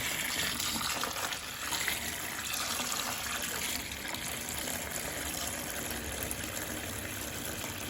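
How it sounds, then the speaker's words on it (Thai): Well tap water runs steadily into a bucket in a steady, full gush that continues throughout, with no speech. "เปิดน้ำใส่ในถัง"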